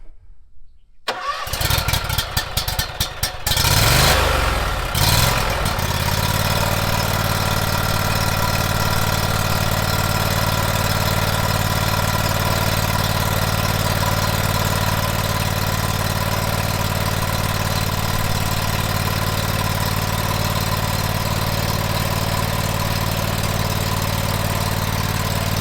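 Ferris IS 3000 zero-turn mower engine cranking in a few sputtering attempts, then catching and settling into a steady, close, loud idle that runs on unchanged.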